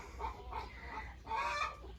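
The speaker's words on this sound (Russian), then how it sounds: "Это курочки фавероли." Faverolles hens give a few soft, brief clucks over low background rumble, fairly close and not loud.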